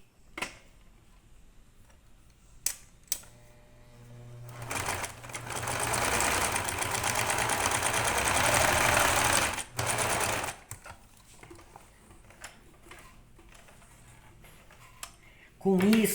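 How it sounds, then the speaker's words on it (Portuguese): A sewing machine runs in a steady whirring burst of several seconds as it stitches the fabric of a rabbit-shaped Easter backpack, with a few clicks and handling sounds before and after. "E vamos passar a costura"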